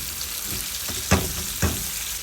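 Garlic, a little onion, salt and bay leaf fry in oil as the base for an egg bhuna with potato, giving a steady close sizzle broken by two short scraping stirs.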